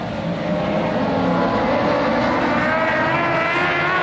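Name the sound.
ModLite race cars starting a dirt track heat race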